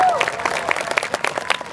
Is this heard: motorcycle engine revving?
no